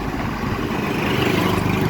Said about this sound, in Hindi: तो बाइक पे हैं हम